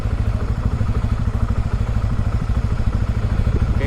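A big motorcycle idles steadily while its rider leans forward to steer it into a left turn without throttle, giving a close, even, throbbing engine beat.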